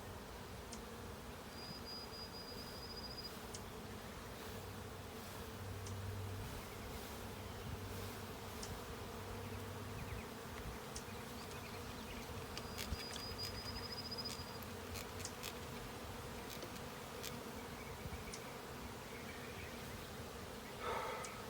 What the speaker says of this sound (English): We're just kind of guiding the bees.